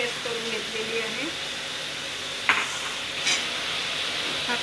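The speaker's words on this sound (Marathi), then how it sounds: "तेल तापलेलं आहे, आता आपण याच्यामध्ये कांदा टाकणार आहोत" Onion paste fries in hot oil for chole, giving a continuous broadband sizzle at close range with a couple of short stirring scrapes and faint voices in the background.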